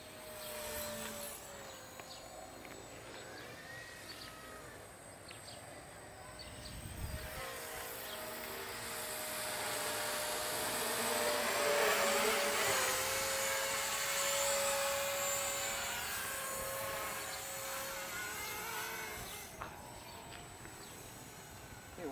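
An RC model AH-64 Apache helicopter from Horizon Hobby flies outdoors into the wind, giving a steady high-pitched rotor and motor whine that swells louder midway and then eases slightly, with no voices.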